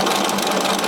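Sewing machine stitching an invisible zip, a rapid, even, close mechanical chatter of needle strokes filling the whole brief moment.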